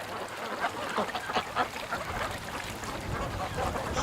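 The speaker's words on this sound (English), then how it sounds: "The ducks are getting more and more used to me standing here" Several ducks quack close by on open water in a cold, blustery north wind, their calls coming in irregular bursts over steady wind noise.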